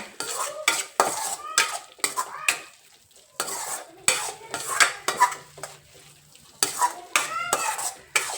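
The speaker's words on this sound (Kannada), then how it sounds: "ಇದನ್ನ ಹಾಕಿ ಒಂದು ಮಿಕ್ಸ್ ಮಾಡಿಬಿಟ್ರೆ" Dry-roasted powder mix being stirred into broccoli in a pan, with close, busy spoon-on-metal scraping and clinking in bursts separated by short pauses, no talk.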